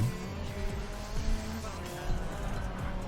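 Tire squeal and engine drone from a car drifting through corners in the mobile racing game Racing Master, with an Avante N on track, steady and loud beneath overlapping voices.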